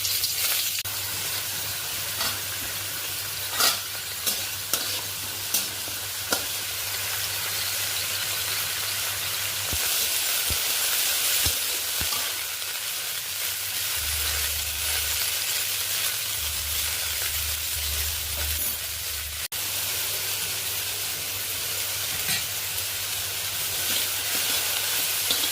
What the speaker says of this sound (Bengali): কড়াই তেল দিয়ে দিয়েছি, একটা শুকনো লঙ্কা আর খুব সামান্য 5 ফোড়ন দিয়ে আমি আলু আর বেগুনটা ভেজে নেব।